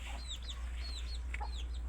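Chickens clucking and chirping in short, bright bursts at moderate distance over a constant low hum, with no talking.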